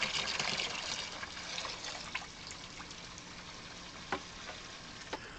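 Water runs through a marine air conditioner system on a sailboat as CLR descaler is added to the flush, a steady hissing, fizzing trickle with a few faint clicks and knocks.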